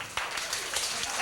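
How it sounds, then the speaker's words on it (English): Brisk cupped-hand clapping for a hand-clapping game, quick hollow claps in a busy run, fairly faint with other clapping and room noise around it. "You leave a little space between your hands and you clap on both sides."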